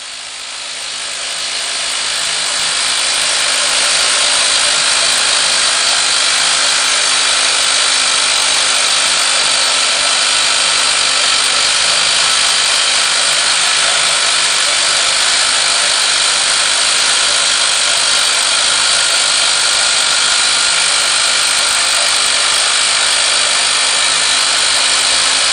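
A MacLean 900 Series scissor-lift bolter drills a bolt hole into rock in a mining or tunnelling heading, giving a steady, loud, high-pitched grinding roar that builds in over the first seconds and then holds unbroken, with no voices.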